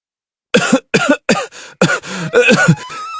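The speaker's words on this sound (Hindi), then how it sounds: "धुआं बाहर निकलता है। मंत्री जी खांसने लगते हैं।" Several harsh coughs from black smoke in quick succession, close and loud, followed by a longer raspy fit of coughing and throat clearing.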